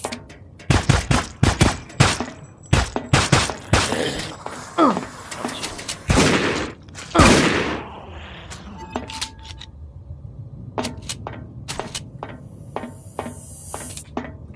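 Gunfire in the sci-fi shooter Dark Matter cracks out in rapid loud shots, clustered early then spaced into sharp single reports, with a shotgun among the weapons and occasional game sound effects between bursts.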